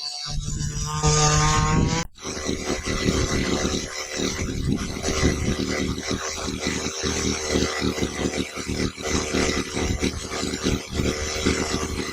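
A Redcat Chimera RC car engine screams at full throttle, a loud, steady high-pitched buzz that holds nearly unbroken for about ten seconds after a brief lower idle at the start.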